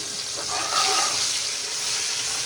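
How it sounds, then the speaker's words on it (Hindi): Garlic and ginger frying in a pan, giving a steady hiss and crackle of sizzling oil that swells briefly and then settles into a constant sizzle. "लहसुन अदरक को फ्राई करूंगी"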